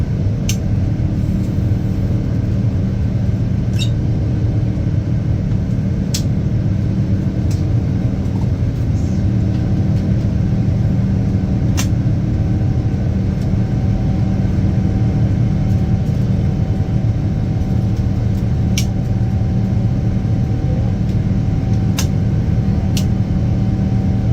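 Rolls-Royce Trent 1000 engines on a Boeing 787 give a loud, steady roar with a deep rumble that holds unbroken, while faint sharp clicks surface now and then above it.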